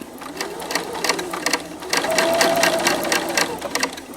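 A sewing machine stitching machine appliqué on a quilt, its needle tapping in a quick steady rhythm with brief pauses, close and clear, with a faint whine mid-clip.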